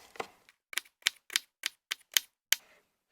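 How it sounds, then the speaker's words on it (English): A knife dices vegetables into roughly quarter-inch chunks on a cutting board during a cheeseburger bake meal prep, giving about eight crisp, close chops in an uneven rhythm with short gaps between them. "Then just come here and dice."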